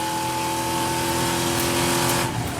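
A EuroNASCAR stock car races close behind a rival, its engine note steady and loud throughout, with a brief rising squeal near the end as the wheels lock up under braking.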